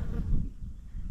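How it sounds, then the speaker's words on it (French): Flies buzzing close by outdoors in Namibia, a steady low insect drone that holds for about a second with no talk over it. "Bon, les mouches là, chut."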